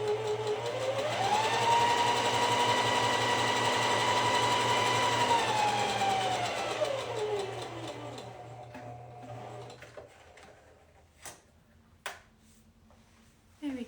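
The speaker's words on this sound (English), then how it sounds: "don't have to backstitch when you're top stitching your straps" A sewing machine top stitches the straps of a white dress, its motor whirring in a steady loud run for several seconds before slowing to a stop, followed by a few faint clicks and handling sounds.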